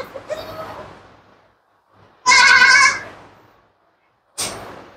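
Goats and their kids bleat in a farm shed, three separate calls with gaps between them, the middle one loud, close and strained, the others shorter.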